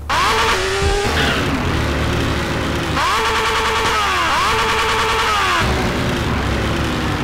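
A motorcycle in GTA San Andreas: loud revving engine whine rising and falling in repeated sweeps, mixed with squealing, skidding tires, continuous and close with no talk.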